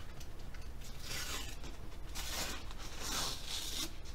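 Tape being peeled and torn off a package, a continuous rasping, crackling strip sound that comes in a few drawn-out pulls, close by.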